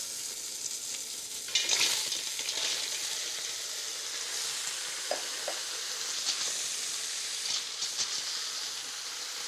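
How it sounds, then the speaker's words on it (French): Mussels sauté in a pan with a continuous close sizzle and hiss, broken by occasional stirring scrapes and clinks. "Je fais revenir l'ensemble sans coloration et j'ajoute les moules."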